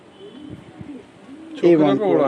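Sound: pigeons cooing in a pigeon loft

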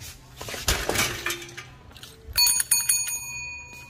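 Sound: bell ringing

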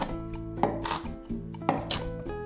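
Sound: chopping large red chillies coarsely

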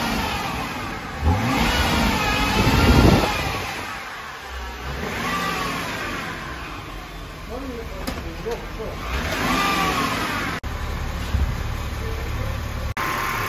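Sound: BMW X5 3.0 diesel engine revving in park

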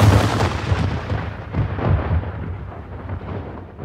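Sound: musket volley from rank of soldiers

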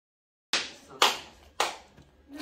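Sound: people clapping for Taji

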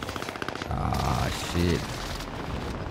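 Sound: precision airstrike and gunfire in Call of Duty Warzone video game

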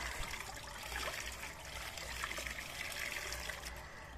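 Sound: baby splashing while bathing in a tub of warm water

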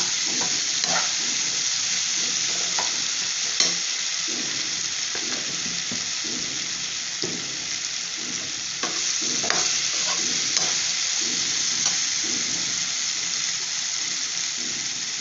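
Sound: raw banana slices frying in a pan

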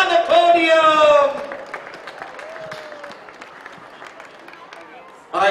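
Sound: crowd applause for teams at a polo match

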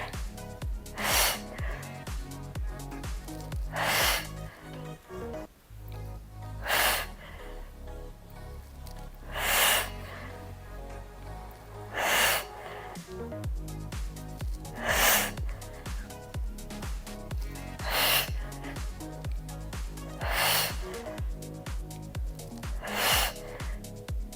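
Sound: exhaling and inhaling during workout exercise

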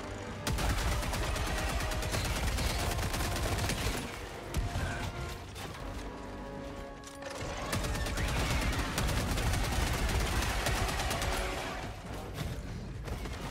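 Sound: Tenderizer gunfire in a video game

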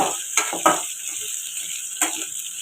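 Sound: frying food in a pan until reddish

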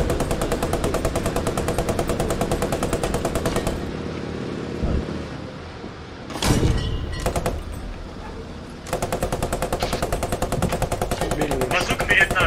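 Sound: gunfire in video game Post Scriptum

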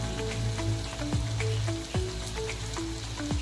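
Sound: onion frying in a pan

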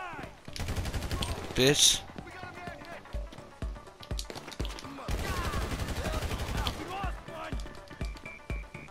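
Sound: gunfire in a video game

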